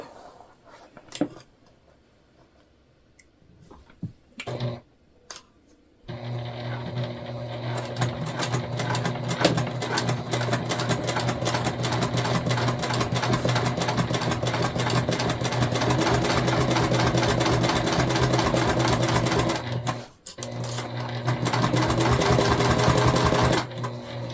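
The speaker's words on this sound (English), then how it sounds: "we're just going to go ahead and stitch down both sides at a 1/4 inch seam allowance" A sewing machine stitches both side seams of a self-drafted vinyl tote bag at a quarter-inch allowance, running steadily and loudly up close after a few faint handling clicks, with one brief pause before resuming.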